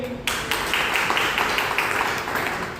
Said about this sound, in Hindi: तो एक बार आप सभी को अपने लिए जोरदार ताली होनी चाहिए।